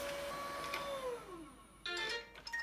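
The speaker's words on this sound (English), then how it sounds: "Okay, Google, go back to charge the robot vacuum." A robot vacuum cleaner heads back to its charging dock, giving off a series of rising and falling electronic tones and beeps, with a brief louder burst of chimes near the end, heard alone at close range.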